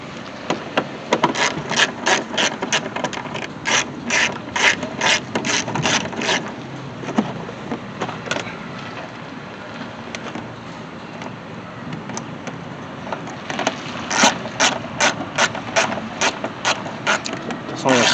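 A ratchet rapidly clicks in quick bursts while tightening screws on a 2002 Ford Taurus headlight, with close, sharp repeated ticks, a pause in the middle, then another run of clicks, and someone talking in between.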